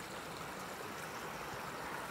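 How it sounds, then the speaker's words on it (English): River water flows steadily where overflow pours into it, a continuous soft rushing wash heard from a short distance, faint and unbroken, with no voices. "you got the river over here, you got some overflow coming out into it"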